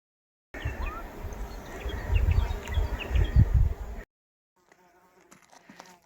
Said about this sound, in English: I've got this massive bees flying around everywhere.